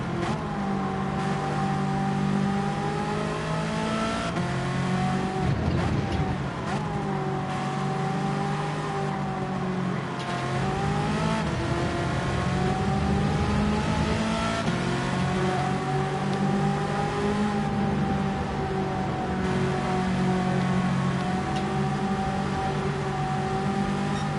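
Race car engines in Gran Turismo 7 drone and rev continuously with rising and falling pitch, dipping briefly as gears shift, loud and steady with no talking throughout.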